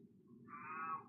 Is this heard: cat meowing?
yes